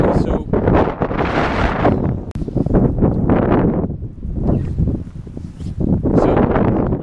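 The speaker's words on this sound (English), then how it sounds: "So, really windy." Strong gusty wind roars outdoors on an overcast day at home, buffeting the microphone loudly and steadily throughout with only brief dips.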